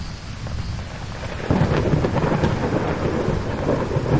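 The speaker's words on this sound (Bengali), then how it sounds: "অন্ধকার আকাশে গটগট করে মেঘ ডাকছে। বৃষ্টি কখনো মুষলধারে ঝুমঝুম করে" Deep rumbling thunder rolls over a steady roar of heavy rain, growing louder partway through.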